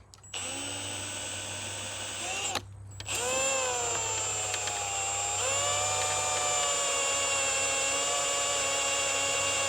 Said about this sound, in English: you'll just wear out your drill bit like right away